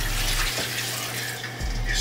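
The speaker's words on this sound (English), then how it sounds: "Now we're gonna cover with water. I don't know how much water this is. I'm just pouring some in." Water poured into a pot of collard greens, a close, steady splashing rush with a low hum underneath that briefly dips midway, no one speaking over it.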